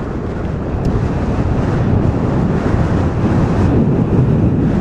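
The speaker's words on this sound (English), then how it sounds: "So it is a bit windy." Strong wind buffets the microphone with a constant low roar and rumble, no voices, steady throughout, while riding a Lexmoto Impulse 1500W 60V electric moped.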